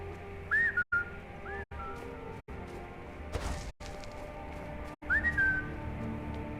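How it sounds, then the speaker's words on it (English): In Skyrim, a player character whistles to a companion in short rising two-tone whistles, spaced apart over a steady game ambience with sharp gaps and a soft thud. "Whistle to Inigo."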